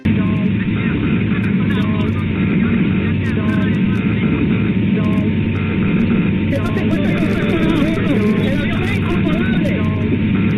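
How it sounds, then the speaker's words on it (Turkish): A muffled, band-limited cockpit recording from a passenger airliner shortly before a fatal crash, with constant engine drone and hum, overlapping voices talking urgently throughout. "Şimdi ekrana kokpitteki kargaşayı anlatan gerçek ses kayıtları geliyor."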